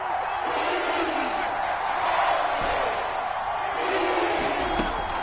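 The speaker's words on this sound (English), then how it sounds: "the crowd getting into it as we come up on a big 3rd down" A virtual stadium crowd in the football video game Madden 22 roars and cheers ahead of a big third down, a dense sustained swell with a few sharp thumps and whoops.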